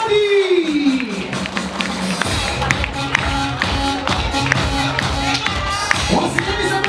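A birthday party crowd claps and cheers steadily, with scattered shouts and children's voices over background music.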